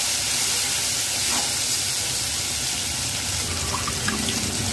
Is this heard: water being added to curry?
yes